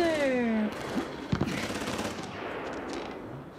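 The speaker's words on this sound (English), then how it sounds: "You can hear gunshots" Bursts of gunfire ring out in the horror video game Outlast: Whistleblower, a few sharp shots over a droning game soundscape, with no speech.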